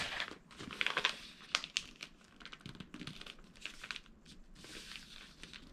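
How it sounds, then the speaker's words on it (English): Paper being folded over and creased by hand to form a bag, soft crinkling and crisp rustles with short pressing scrapes, close and quiet, no speech. "So I'm just folding it over."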